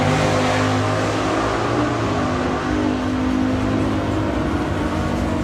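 A little dragster blasts down a drag strip at a bracket race during the STP Summer Nationals, a loud sustained engine roar that holds steady and full throughout, with nothing else breaking through.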